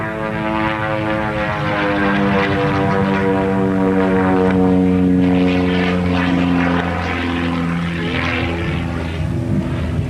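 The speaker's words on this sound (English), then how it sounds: "flying the Myers Lil Toot, an airplane very similar to a Pitt Special. A little biplane." A Myers Lil Toot, a small aerobatic biplane much like a Pitts Special, performs rolls at a 1989 Fargo airshow, its propeller engine droning loud and steady throughout with shifting pitch as it manoeuvres overhead.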